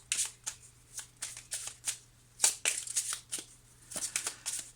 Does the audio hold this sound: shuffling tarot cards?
yes